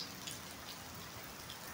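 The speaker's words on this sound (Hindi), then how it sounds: "इतनी बारिश और इतनी तेज़ हवा के साथ सर्दी भी काफ़ी हो चुकी है।" Steady heavy rain patters densely and evenly, a continuous wash of drops with no other sound over it.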